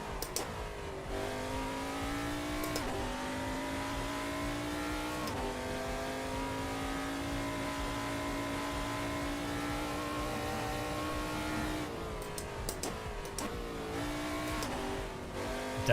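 URD LMP2 prototype race car engine in a racing video game, a loud sustained high-revving whine with sharp upshifts and brief throttle lifts, steady and close throughout with no talking.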